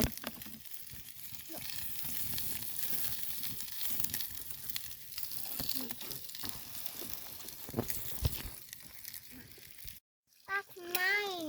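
Bacon frying in a pan over an outdoor campfire, giving a steady crackling sizzle that runs throughout beneath children's chatter and nearby voices.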